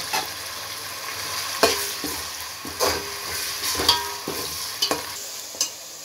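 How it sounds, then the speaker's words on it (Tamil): Chopped tomatoes sauté with salt and turmeric in a pan for Sankara fish curry, giving a close, steady sizzle broken by scraping stirs and clinks of a spoon, with no talking. "தக்காளி நல்லா வதங்கட்டும்."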